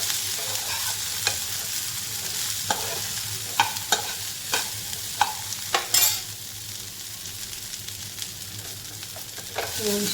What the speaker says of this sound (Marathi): आपली भाजी कापलेली भेंडी टाकणार आहोत